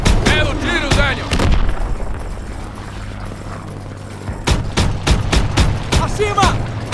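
Stuka dive bombers attacking in the Call of Duty WWII video game, with repeated sharp explosion bursts and rumbling booms over a low drone, while voices call out in between.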